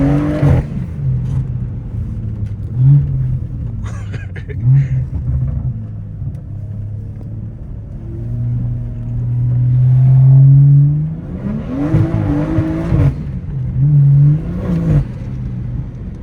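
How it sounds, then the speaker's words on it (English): A BMW 340i with a B58 engine and new aftermarket intake revs up and down in repeated pulls, loud and close, with a long sustained rise near the middle and sharper blips toward the end. "this thing sounds so crazy with the new intake"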